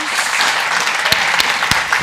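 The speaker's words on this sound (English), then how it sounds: "let's have a round of applause" Conference attendees at an international ship autonomy and sustainability summit applaud the panelists: a short, full burst of crowd clapping with a few sharper, closer claps standing out.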